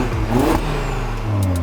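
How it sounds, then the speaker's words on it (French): A new-generation Audi RS3 engine revs close by, its note sweeping up then down in pitch over a brief burst. A steady idle rumble follows. "Audi RS3 nouvelle génération"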